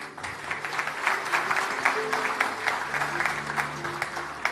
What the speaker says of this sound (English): definitely deserves a second round of applause